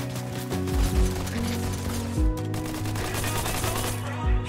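Repeated gunfire pops and thumps in Fortnite, with several heavier low booms spaced irregularly over a busy, dense background.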